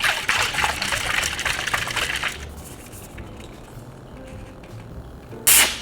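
A bottle of Mela watermelon water being shaken, a steady liquid sloshing for about two seconds close by, then quieter handling and a short loud burst near the end.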